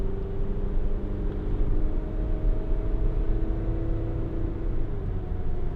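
A 2015 Volkswagen Transporter Shuttle 2.0 TD T30 SE minibus drives steadily on slippery roads, its diesel engine giving a constant low drone and faint whine heard from inside the cabin without speech.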